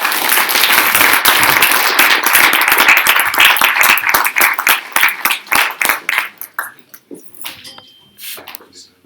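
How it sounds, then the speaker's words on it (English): Audience at a Brexit panel discussion applauds the speakers, dense clapping that thins out after a few seconds into scattered individual claps and then fades away. "if you would all just join me in applauding all our speakers"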